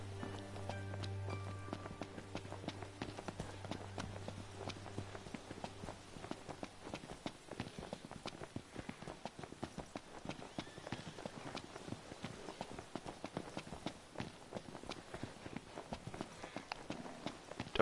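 Horse hooves clip-clop at a steady trot in the video game Final Fantasy XV, a continuous rhythmic patter of close, moderately loud steps, with a low droning tone in the first seconds.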